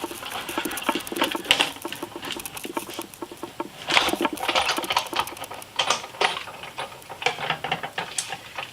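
A hand-cranked embossing machine rolls a sandwich of plates and an embossing folder through its rollers, giving a close, steady run of rapid clicking and ratcheting patter with small bursts, and no talking.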